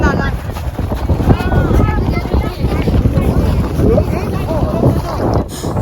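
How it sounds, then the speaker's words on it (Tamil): Strong wind gusts across the ice at Athabasca Glacier in the Columbia Icefield, a loud, steady roar buffeting the microphone. "காற்று வேற பயங்கரமாக அடிக்குது."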